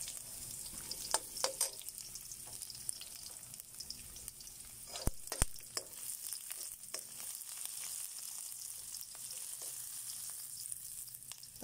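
Garlic and onion sizzle steadily in a hot pan, a close, continuous crackle broken by a few sharp pops and light stirring clicks.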